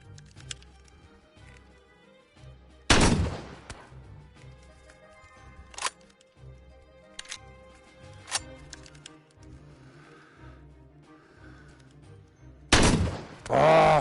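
Gunfire in the video game Out Of Ammo: two loud, sharp blasts several seconds apart with a few smaller single shots between them, over a faint low background hum.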